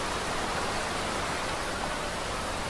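Steady rain from the dynamic weather of a PSVR fishing game, a dense unbroken hiss of falling water holding at the same level throughout, with no voices.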